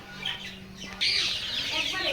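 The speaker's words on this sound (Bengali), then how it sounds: "দেখতে পাচ্ছেন এখানে দেশি মুরগি বাচ্চা" Local chicken chicks crowded at a farm chirp in a thick, high-pitched cheeping chorus that swells louder after a quieter opening, with a brief low voice early on.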